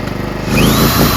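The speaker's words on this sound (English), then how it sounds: "So I've got a power drill." A power drill runs off a PowerSmart 2200W PS5025 inverter generator, its whine rising sharply after a steady engine hum, then holding loud and continuous alongside the 4-stroke OHV gas engine.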